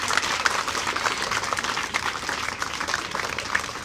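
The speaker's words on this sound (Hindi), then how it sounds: "तालियों से स्वागत कीजिए आप लोग।" A school audience at a prize distribution gives sustained applause, many hands clapping in a dense, even wash at moderate volume throughout, with no speech on top.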